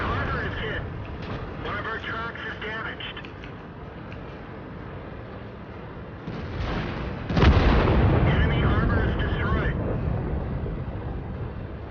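A single heavy cannon blast from a T110E5 heavy tank in the World of Tanks video game booms out midway, over a steady engine and battle rumble, with someone talking throughout.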